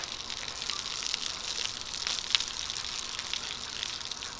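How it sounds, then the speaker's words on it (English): A shower runs steadily over someone washing their hair, a close, broad hiss of falling water that swells slightly with a brief louder splash partway through. "there's a lot of water actually running down my body right now"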